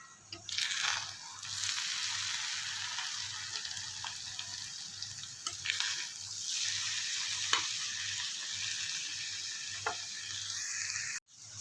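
Minced keema with ginger, coriander and green chillies fries on a tawa, a moderate hissing sizzle with scraping stirs and occasional clinks throughout, quiet, ending in a brief thud; no speech.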